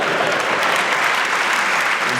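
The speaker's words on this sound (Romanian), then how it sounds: "așa că mai aplaudați" Sustained audience applause at a stand-up comedy show, a thick, continuous roar of clapping from a crowd, loud and even with no break.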